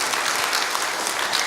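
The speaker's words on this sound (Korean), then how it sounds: "우리 환영의 박수 하겠습니다" A church congregation at an Easter service claps in steady, dense applause, a warm welcome that fills the room evenly without a break.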